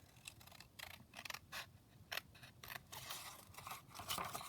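Scissors snip out a printed paper image in a run of quick, soft, closely spaced cuts, faint and close up against a quiet room with no talking.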